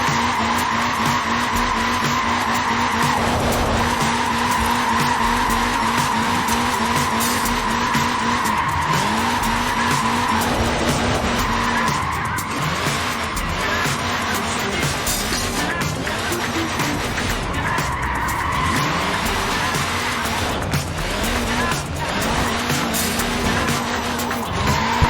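A short-wheelbase front-wheel-drive car in Forza Horizon 4 slides repeatedly, its tires squealing in long wavering screeches over a constant engine drone, loud and close throughout.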